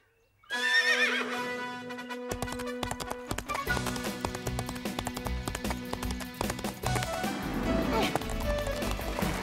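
A horse that jumps obstacles whinnies loudly and close by, mixed with clip-clop hoofbeats and bright music under a voice.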